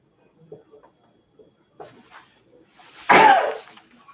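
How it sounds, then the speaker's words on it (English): A single loud sneeze bursts out near the end after a few faint, scattered sounds in an otherwise quiet room. "That was a sneeze."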